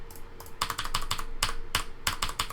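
Rapid, uneven clatter of keys being pressed on a computer keyboard, close and crisp, with bursts of several keystrokes in quick succession and no voices.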